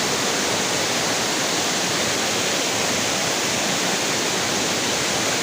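Nang Khruan Falls in Tak province roars as a loud, constant, broadband rush of falling water, unbroken and close, with no voices over it.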